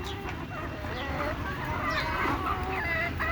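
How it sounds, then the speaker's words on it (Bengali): Native desi hens clucking steadily at close range in a backyard flock, repeated short calls overlapping through a constant bed of farmyard noise. "এই যে দেখেন, এগুলো সব দেশি মুরগি"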